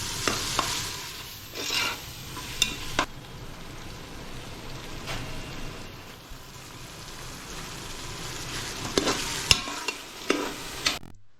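Tomato frying with ginger garlic paste for a pressure-cooker chicken biryani, a soft, quiet sizzle broken by irregular spoon scrapes and clatters, busier toward the start and end.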